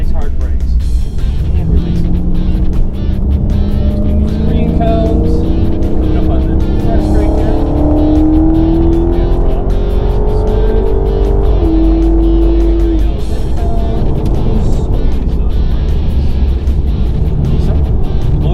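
A car engine revs and climbs through gears close by on a racetrack, pitch rising steadily before dropping off under braking, with a person talking over the loud engine noise.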